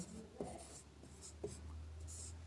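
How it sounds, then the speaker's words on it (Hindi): Quiet pen or pencil writing on paper while working a class 7 maths exercise, a few short scratchy strokes at irregular intervals over a low steady hum. "तो यहाँ लिखेंगे"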